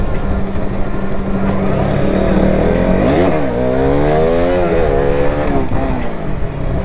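Motorcycle engine revving hard and close, the pitch climbing and falling in rising sweeps during an attempt to pop a wheelie; the loud engine note continues throughout.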